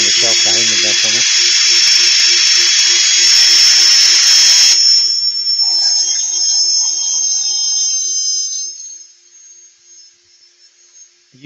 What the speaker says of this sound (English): Are you still running that drill on full speed